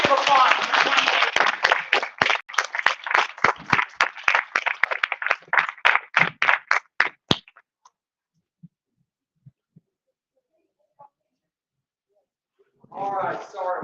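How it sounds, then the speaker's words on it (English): Audience at the Scarefest 15 convention bursts into loud, dense applause that lasts about seven seconds and cuts off sharply, followed by near silence before a voice starts talking. "Let's have a big round of applause."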